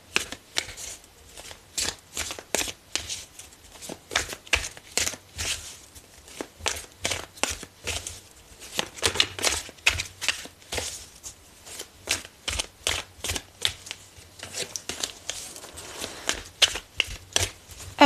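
Oracle advice cards being shuffled by hand, a steady run of soft papery riffles and flicks close up, continuing in bursts with no voice over it.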